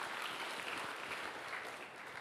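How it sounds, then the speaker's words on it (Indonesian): Steady applause from a church congregation after a pastor's sermon, dense and even throughout, moderately distant, with no voices over it. "Tepuk tangan buat Tuhan Yesus."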